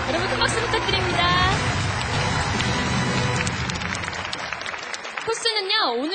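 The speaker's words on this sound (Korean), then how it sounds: "여러분 큰 박수 부탁드립니다." Crowd applause for a rotating-blade combat robot on a Korean robot battle TV show rolls on for several seconds, dense and steady, with an amplified announcer's voice and music rising over it near the end.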